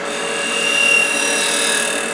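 A Hope 8mm carbide tool cuts wood on a spinning lathe, giving a steady close whirring hum with a rough scraping edge that swells slightly midway, with no voices.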